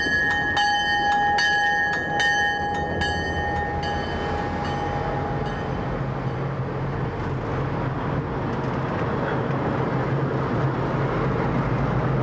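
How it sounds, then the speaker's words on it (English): A loud train bell clangs repeatedly in a fast, steady rhythm at a mountain village station in Mexico, then fades out, leaving the deep rumble and hiss of a train passing close by. "The loud ringing of the train rudely interrupts the tranquility of this mountain village."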